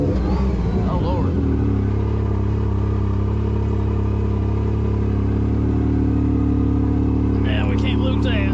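A Yamaha YXZ1000R side-by-side (2016–2018 model) rides on newly mounted tires and is not yet warmed up, its engine giving a steady, loud rumble throughout with a brief rise in revs near the end.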